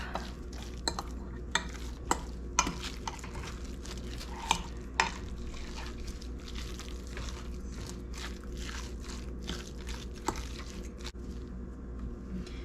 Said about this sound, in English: So I just mix it up good and make sure that it's all mixed and broken up